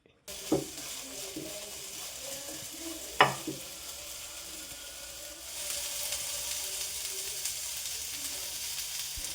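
Sliced okra and onion frying in a pan, a quiet sizzle with a couple of sharp spoon knocks early on, then the hiss swells slightly louder and steadies, close up and without speech.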